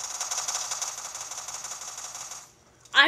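Rapid spam-fired gunfire in the video game Fortnite, a fast even rattle of shots that runs steadily then stops abruptly, followed by a short voice at the end.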